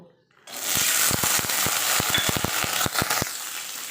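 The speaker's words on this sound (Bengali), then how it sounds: "ওটাই তেলে হালকা একটু তেল দিয়ে ভাবছি যে মটরশুঁটিটা একটু ভেজে নিব" Green peas frying in a little hot oil for matar paneer, a loud close sizzle with sharp irregular crackles and pops that start abruptly and continue steadily.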